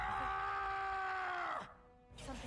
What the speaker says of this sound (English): You gotta scream so loud, man.